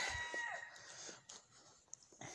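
Backyard chickens cluck and call near a shed-like tent, a rooster-like cry at the start followed by scattered short clucks at moderate volume.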